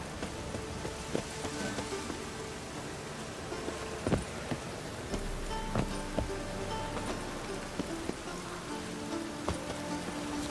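Steady rain in the video game The Witcher 3 patters down with scattered sharper drips and ticks, continuous and fairly soft throughout.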